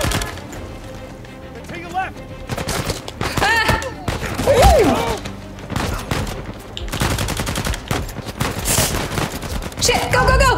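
A gun fires in the Uncharted 4 video game, with rapid bursts of close, loud shots in irregular volleys mixed with impacts and game effects throughout.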